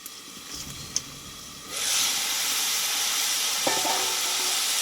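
Yardlong beans and potatoes fry in an open pan after steaming, a steady sizzle swelling up and holding close, with a couple of faint clinks of a spoon.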